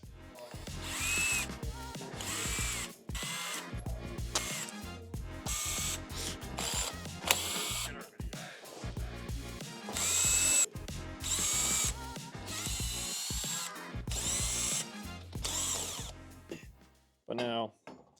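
An impact or ratchet power tool on a Jeep brake caliper, running in repeated loud bursts of whirring and rattling with short pauses between them.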